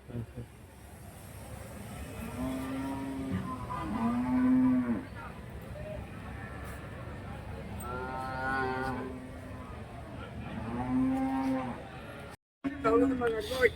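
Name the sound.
cattle at a livestock market in Krishnagiri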